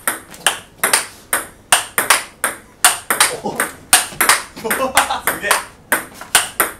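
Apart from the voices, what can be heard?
table tennis topspin rally with V>15 Extra rubber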